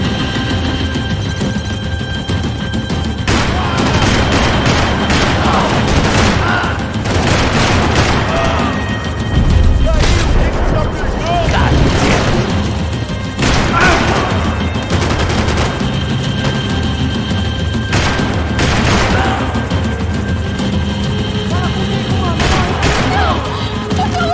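Gunfire in Max Payne 3 crackles in repeated bursts and heavy booms over about twenty-four seconds, loud and close, with shouted voices and music mixed in between the shots.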